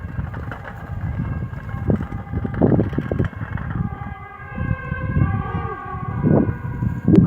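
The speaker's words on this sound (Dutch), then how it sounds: "Daar komt zo meteen een ambulance." An ambulance siren wails on a rainy street, its rising and falling tone growing louder as it passes close by over steady background noise, with faint voices underneath.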